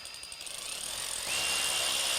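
A SKIL PWRCORE 12V brushless ratchet, model RW5763A, runs close by with a rising motor whine and rapid mechanical buzzing that grows louder as the trigger is squeezed from slow toward full speed.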